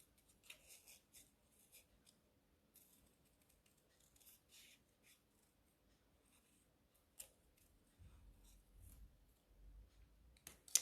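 Scissors snip through paper while fussy cutting out a penguin shape for a papercraft fold card, producing soft, close, irregular clipping and rustling sounds, with a low thump near the end.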